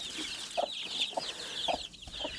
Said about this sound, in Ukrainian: Цим курчаткам вже три тижні